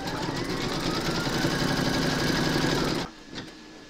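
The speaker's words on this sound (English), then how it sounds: "Pop your hoop into your machine and stitch round number 9, and that's going to do the satin stitching on the edge of his pockets." A home embroidery machine satin stitches the edges of appliqué trouser pockets on a scarecrow design, a loud, fast, steady mechanical whirr that stops abruptly near the end, followed by a faint click.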